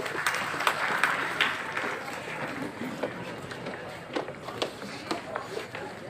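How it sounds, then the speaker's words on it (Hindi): Audience applause at a school prize ceremony, a crowd clapping in loose, uneven bursts with sharp individual claps standing out, fading and rising over several seconds, with a voice talking over it. "क्लैप योर हैंड्स, तालियां बजती रहनी चाहिए।"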